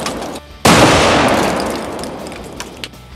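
One sharp, very loud sniper rifle shot strikes paint cans and sets off an explosion that booms and then slowly dies away, followed by a couple of faint pops.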